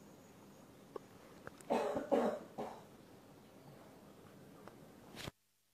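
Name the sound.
coughing during a yoga session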